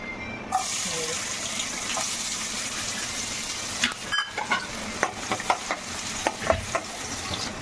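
Oil with cloves and cinnamon sizzling in a pan for chicken gravy, a steady hiss with a burst of spattering pops toward the end, no speech.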